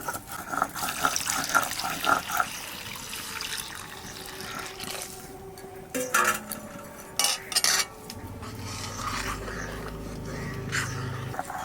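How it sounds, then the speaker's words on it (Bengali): Reserved lentil cooking water poured into a pot of dal, a continuous close pour with a few clinks of utensils and a low simmer rising near the end. "ডাল থেকে যে জলটা রেখেছিলাম সেই জলটা দিয়ে দেবো"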